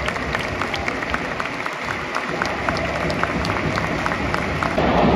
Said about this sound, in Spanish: aplausos de honor a el Puma Chávez.